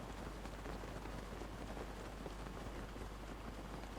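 Steady rain falling in The Legend of Zelda: Breath of the Wild, a dense, continuous, fairly quiet hiss of drops with no voices or other sounds.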